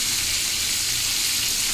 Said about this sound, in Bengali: মাছটা ভেজে নিয়ে চলো